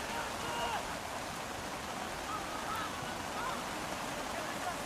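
Heavy rain pours onto stadium bleachers and umbrellas at a West Orange high school game, a dense, steady hiss with no breaks and no voices.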